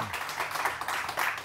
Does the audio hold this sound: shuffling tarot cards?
no